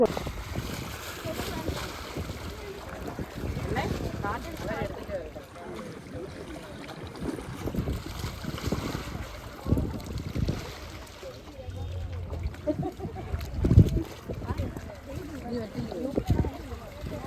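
Carrying several people, a speedboat runs on the open sea, its engine droning amid irregular splashing water, with gusty wind buffeting the microphone and people talking throughout.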